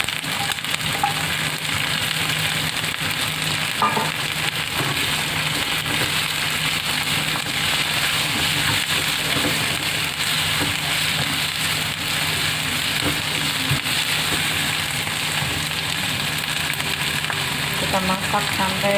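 Chili and carrots stir-fry in a pan for a vegan water spinach dish, giving a continuous loud, dense sizzle with faint stirring noises throughout.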